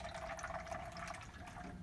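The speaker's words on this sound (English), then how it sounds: "during that 10 times we'd let water flow" Water flows steadily into a cup in a Galileo-style timing experiment, a faint, continuous trickling fill with a slight rising tone and no voices.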